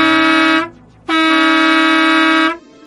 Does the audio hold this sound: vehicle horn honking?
yes